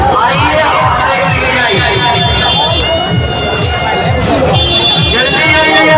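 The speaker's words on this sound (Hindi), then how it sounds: "भीड़ बहुत ज़्यादा है," Dense crowd bustle on a busy Bhagalpur market street on Dhanteras, with a constant close babble of many voices, chatter and occasional shouts all around.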